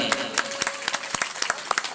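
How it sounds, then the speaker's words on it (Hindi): A small audience at a Bhagavat Katha religious discourse in Krishna Nagar, Lucknow, claps in sparse, uneven bursts, a few distinct nearby hand claps scattered over a couple of seconds. "तो एक बार अपने लिए तालियों से अपने लिए स्वागत कर लें।"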